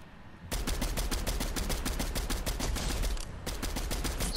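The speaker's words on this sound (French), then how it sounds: "Ok, il tire sur un autre gars." Rapid automatic gunfire in Fortnite, a dense loud burst of repeated shots lasting several seconds, briefly pausing before another burst resumes.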